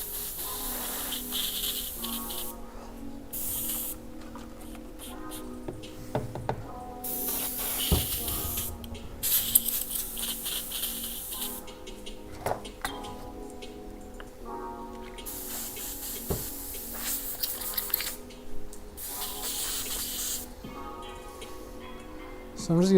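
Airbrush hissing in repeated bursts as it is rinsed out, a steady broadband spray cutting on and off with short gaps, close and fairly loud, with faint tapping and handling noises between bursts.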